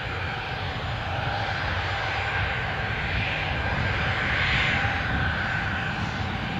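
An aircraft departs Newcastle Airport, its steady engine roar holding at moderate loudness and swelling slightly near the end, with no speech.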